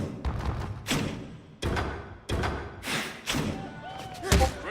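In a boxing video game, a series of heavy punches lands to the body: about five dull, close thuds in uneven rhythm, with a busy background underneath.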